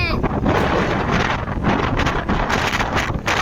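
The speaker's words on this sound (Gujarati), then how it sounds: "પવન પણ બહુ છે પણ ઠંડો પવન નથી ને" Strong, warm wind buffets the microphone out in farm fields at sowing time in a constant, rough roar with gusty surges throughout.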